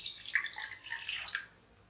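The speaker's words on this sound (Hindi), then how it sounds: "इसमें हम 1 गिलास पानी डाल" A glass of water is poured into a heating pan for tulsi kadha, a brief faint splash and trickle that fades out after about a second and a half.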